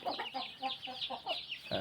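A seven-month-old young Pa Koi game-fowl rooster weighing about 2.2–2.3 kg gives a close series of short, rhythmic clucks, with a sharper call at the end.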